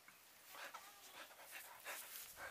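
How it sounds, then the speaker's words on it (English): A dog pants close by in quick, rhythmic breaths, soft and quiet, with a faint whimpery edge, outdoors while looking at birds. "Yeah, camera shy dog."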